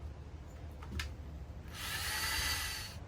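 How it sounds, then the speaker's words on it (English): A power drill whirs steadily for about a second and a half near the end, pre-drilling wood, after a brief earlier burst of tool noise, close and fairly loud. "I'm going to pre-drill."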